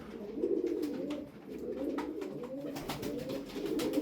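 Tumbler pigeons coo in low, rolling, repeated phrases close up, a steady murmur of overlapping calls with faint clicks and rustles.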